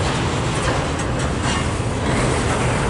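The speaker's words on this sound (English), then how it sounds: "Come on, train, keep going." A CSX freight train rolling past close by in Fostoria, Ohio, a loud, steady rumble of wheels and railcars with rhythmic clatter throughout.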